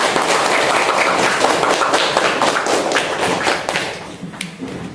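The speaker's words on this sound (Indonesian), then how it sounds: "Ya, tepuk tangan" A classroom of children claps hands in a loud burst of irregular smacks that thins out and fades toward the end.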